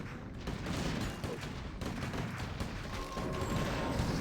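Mortar teams firing in a Warcraft III match, a dense battle soundscape of repeated booming shots and rattling gunfire under steady combat noise, loud and continuous throughout.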